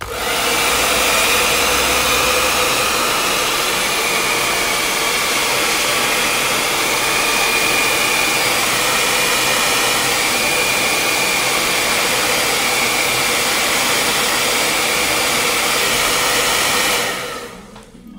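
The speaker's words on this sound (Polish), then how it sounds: "i znowu suszymy suszarką." A handheld hair dryer blows steadily at close range for about seventeen seconds, a loud continuous whooshing hum that cuts off near the end, with no talk.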